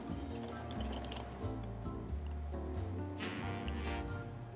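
Milk, sugar and vanilla extract poured into a container for vanilla iced coffee, a steady liquid stream with dripping and sloshing that runs throughout at close range, no talk.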